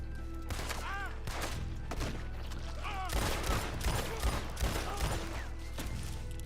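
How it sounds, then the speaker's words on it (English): Rapid bursts of enemy gunfire in Red Dead Redemption 2, repeated volleys of shots and thuds crowding together, loud and close, with a voice talking through the fighting. "They're still shooting me."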